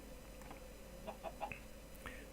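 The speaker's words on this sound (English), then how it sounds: "There's some chickens around here and that's always handy." Chickens in the Minecraft video game cluck softly in a quick series of short calls with a few higher squawks, faint over a low steady background hum.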